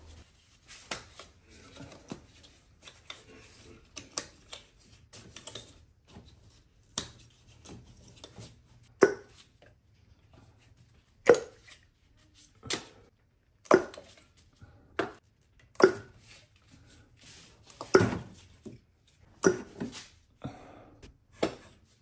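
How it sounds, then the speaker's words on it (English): Ignition coils unplugged and pulled from a car engine: a long run of irregular sharp plastic clicks and snaps, close and fairly quiet, with rustling handling between them. "Unplugging the ignition coils and taking them all out."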